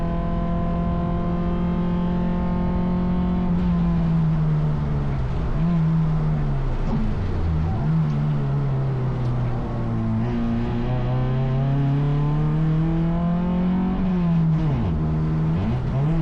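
Race car engine at Circuit Excel: a steady droning note that dips and wavers as a gearshift is missed, then recovers, loud and continuous with no talk over it.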